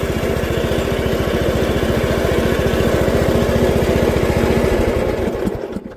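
A Husqvarna riding mower engine runs steadily and loud at close range, a rapid even putter throughout that cuts off abruptly near the end.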